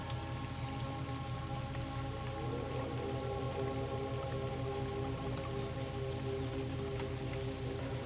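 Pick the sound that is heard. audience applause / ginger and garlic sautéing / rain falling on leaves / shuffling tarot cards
rain falling on leaves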